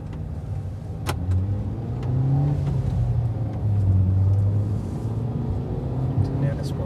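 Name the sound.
Hyundai i20 petrol car driving on road test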